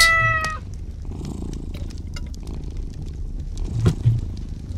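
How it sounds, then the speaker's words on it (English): A cat in the video game Strange Toilet 2 gives a short, clear meow, then a low, soft purr rumbles on with faint scrapes and a couple of small thumps near the end. "And there's a cat."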